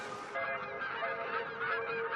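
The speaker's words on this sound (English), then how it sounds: "Migratory birds, like Canada geese, soar the skies twice a year" Canada geese honk in a short burst of overlapping calls, distinct but not loud, with no talking.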